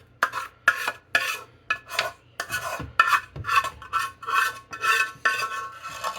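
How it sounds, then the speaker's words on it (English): A spoon scrapes thick, creamy cheese sauce out of a pot for homemade macaroni and cheese, in about a dozen short, rasping strokes that repeat at a steady pace, close and clear with no talking. "Excuse the scraping."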